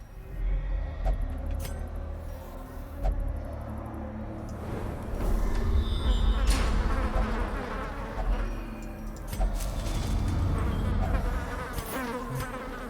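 A Thronging Hive in the Darkest Dungeon game gives off a dense, continuous insect buzz, swelling and fading over several seconds, layered with game effects and background music.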